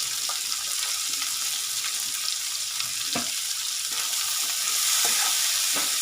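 Karela shaak made from bitter gourd frying in a pan with turmeric and coriander-cumin powder, a loud, steady, close sizzle with occasional scraping from stirring and no talking.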